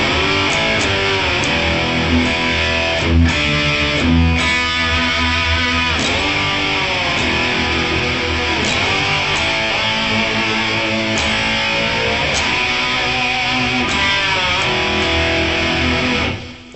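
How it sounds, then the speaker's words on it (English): Distorted electric guitar played with whammy bar pulls that make notes swoop and glide like a slide guitar, loud and continuous for the whole stretch with no voices. "I like to just kind of pull anything that I can with the whammy, and you can get kind of a slide guitar sound."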